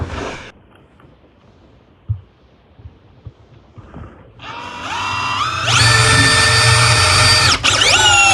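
A Makita DDF083 cordless drill drives fasteners: a few quiet clicks and taps, then the motor whirs up loudly, holds a sustained high whine for several seconds with shifting pitch, briefly dips, and resumes.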